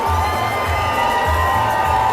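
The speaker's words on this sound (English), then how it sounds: "as the crowd applauds" Crowd noise at a boxing match right after a stoppage, a loud sustained roar of cheering voices and shouts filling the arena, with no distinct clapping standing out.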